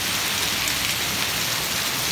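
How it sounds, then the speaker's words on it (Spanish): Steady, dense patter of rain and hail falling hard in Ahualulco del Mercado, Jalisco, a continuous hiss with no distinct impacts standing out. "Además está cayendo granizo."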